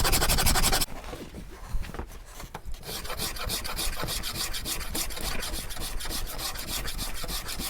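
A hand rasp files steadily across wood while carving a guitar neck, a dense continuous scraping with a brief pause near the start, close and loud, with no talking.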